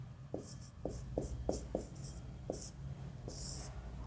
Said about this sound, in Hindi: तो यहाँ प्रमुख गीत लिखते हैं